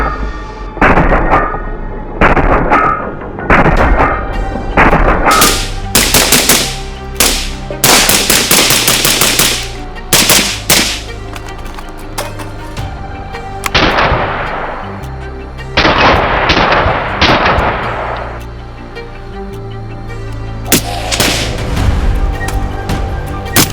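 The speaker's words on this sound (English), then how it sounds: "All right, Malcolm, let's do a little shooting." AR-18 rifle firing outdoors, very loud and close: single shots, then rapid strings of shots in fast bursts, with pauses between groups and echoing decays.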